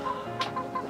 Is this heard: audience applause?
no